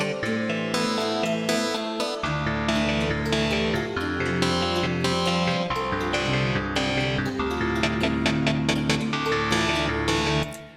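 Orchestral MIDI music plays in Cubasis with dense synthesized notes and chords, the tempo gradually quickening along a tempo track as the notes grow more rapid toward the end.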